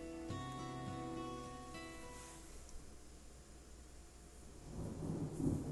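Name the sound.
thunder in the video game Deadly Premonition 2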